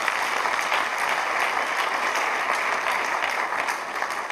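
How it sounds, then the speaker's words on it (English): A church congregation claps hands together during a prayer service, a loud, continuous wash of applause from many people that holds steady throughout. "give the Lord a clap of hands"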